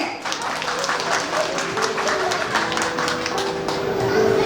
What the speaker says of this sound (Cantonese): 掌聲歡迎